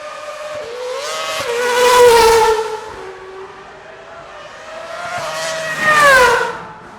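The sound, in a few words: Lanzante Porsche 911 TAG Turbo with F1 engine passing by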